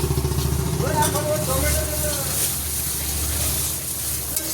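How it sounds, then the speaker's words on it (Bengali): Chopped onion and garlic frying in a pan with ginger-garlic paste, a soft continuous sizzle with light stirring, under a person talking near the start. "পেঁয়াজ আর রসুনটা ভাজা ভাজা হচ্ছে।"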